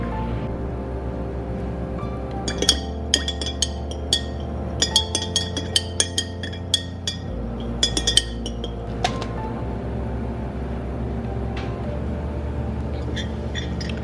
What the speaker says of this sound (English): I'm gonna add about 2 teaspoons of honey into the tea and stir it up